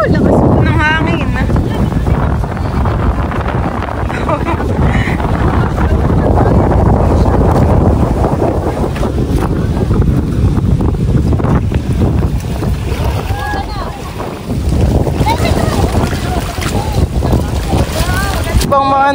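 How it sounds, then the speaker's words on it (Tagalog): Strong wind buffets the microphone over a fishpond where milkfish and other fish are being harvested, a steady loud roar with gusts throughout, while people talk underneath. "Lakas po ng hangin."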